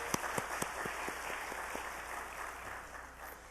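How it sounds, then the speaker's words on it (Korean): A congregation at a Wednesday church service applauds together, a broad wash of clapping with a few sharp claps standing out near the start, steady then slowly fading. "하나님께 감사와 영광의 박수 올려드립니다."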